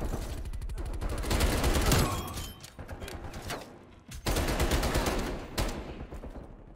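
Rapid automatic TEC-9 fire from hip-fire in a first-person shooter video game comes in loud, dense bursts, two long strings broken by short pauses, close and continuous.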